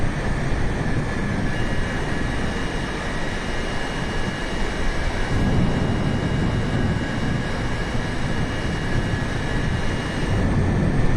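Steady broadband roar of a Boeing 747 landing at Tampa International Airport, with continuous low rumble and faint high tonal whine, constant and fairly loud throughout, no voices.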